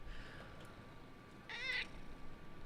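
A cat gives a single short meow partway through, fairly faint and close, over a steady low room rumble with no talk.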